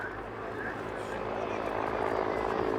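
A Westland Whirlwind helicopter, the only airworthy one of its type, at an outdoor airshow gives off a steady, broadband engine and rotor roar that stays fairly even throughout, with no voices.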